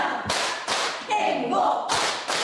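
Second-grade children at Yeonggwang Elementary play the 'hyodo jjakjjak' clapping game, landing sharp group claps in paired bursts with chanting voices between them, fairly close and loud.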